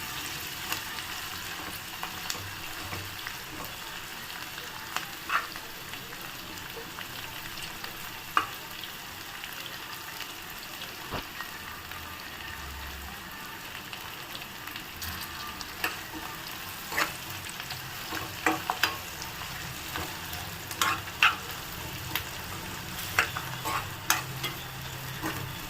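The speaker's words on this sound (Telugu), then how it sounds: "బాగా కలుపుకోండి. ఇది ఒక 3-4 మినిట్స్ బాగా కలపాలి." Onions frying with green chillies in a pan while being stirred, a continuous soft sizzle with frequent scraping and clicking spoon strokes that grow busier toward the end, no voices.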